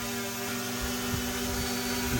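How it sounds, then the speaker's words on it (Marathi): A drone flies inside a house, giving a steady, loud whirring buzz from its spinning propellers with a constant hum that fills the room without pause. "ड्रोन आता आमचा घरात उडाला आहे आणि एवढा आवाज करायलाय"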